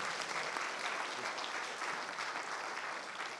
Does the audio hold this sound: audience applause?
yes